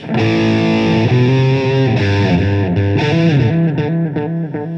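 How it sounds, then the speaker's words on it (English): Electric guitar run through modulation, delay and reverb, playing a loud sequence of sustained chords and notes that shift every second or so, with ringing, smeared tails and no voices. "with a bit of modulation and a bit of delay and a bit of reverb"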